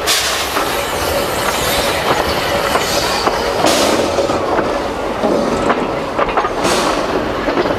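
A Pukemiro train rolls past with rhythmic clickety-clack of wheels on rails and occasional metallic squeals, loud and continuous.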